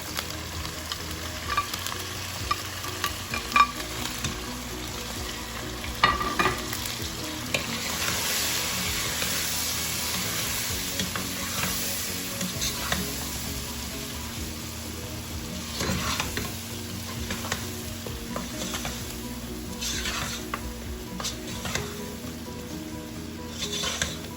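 Chicken and okra (bhindi) sautéing in a pan with red chili powder, a steady sizzle and fry throughout with repeated scraping stirs of a spoon, close and alone.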